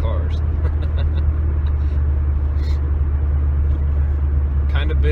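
A Corvette cruises on the road with a strong steady engine and tire drone close by, a continuous low rumble running the whole time, with a few light clicks and rattles on top.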